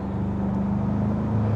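Inside the cabin of a Ford Ranger Wildtrak pickup under acceleration, a steady low engine drone with a firm humming tone carries through plainly, unbroken and without voices.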